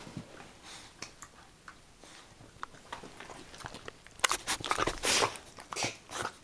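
A pet eagerly eating a tiny doughnut, with scattered wet bites and chewing that turn into loud rapid crunching near the end, heard up close.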